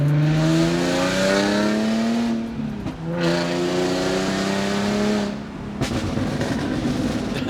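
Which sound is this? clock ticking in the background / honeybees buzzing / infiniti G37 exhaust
infiniti G37 exhaust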